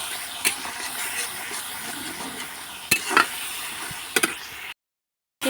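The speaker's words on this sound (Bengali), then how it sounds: "ভালো করে মশলাটা কষিয়ে নেবো।" Masala spice paste with garlic stir-fried in a pan for a kachur loti dish, giving a steady sizzle with occasional scraping stirs and clicks, then a brief silence before the sizzle returns.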